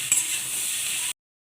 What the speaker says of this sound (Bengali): লতিগুলো একটু ভাজা ভাজা করে তারপরে মশলা দিয়ে দেবো